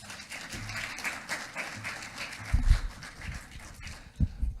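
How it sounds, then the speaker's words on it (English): An audience at a technical talk session claps warmly for an incoming presenter, with moderate steady applause and a couple of louder low thumps near the middle and end. "help me by giving him a warm round of applause"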